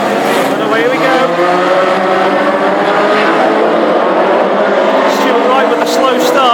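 Classic hot rod race cars roar off the line at the start of a heat at Hednesford, a loud, dense and continuous engine din that stays strong throughout while a commentator talks over it.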